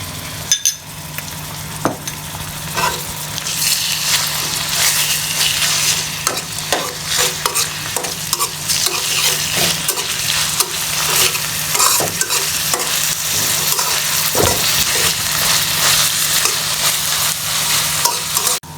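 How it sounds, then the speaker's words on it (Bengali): Ginger and garlic paste fries in hot oil in a pan for a shrimp and radish greens curry, with a loud continuous sizzle broken by frequent scraping spoon strokes throughout. "আমি পরিমাণ মতন আদা বাটা দিয়ে দিচ্ছি। পরিমাণ মতন রসুন বাটা দিয়ে দিচ্ছি।"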